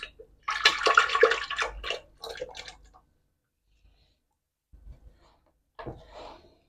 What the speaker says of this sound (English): all of this rhubarb sugar mixture, I'm just going to pour it into my pot